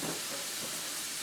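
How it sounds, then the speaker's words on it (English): Broccoli steaming over low heat in a pan with a little water, giving a steady, even hiss that runs unbroken from start to finish at a moderate level, with no talking. "I've got my broccoli with some water in the bottom, so I just want to steam this broccoli to tender."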